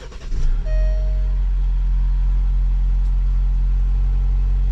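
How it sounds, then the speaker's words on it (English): An Alfa Romeo Giulia engine starts after a battery replacement: a short cranking burst, then the engine catches and settles into a loud, steady idle rumble, with a brief tone chiming at the start. "So let's start the engine and I will show you how to solve this."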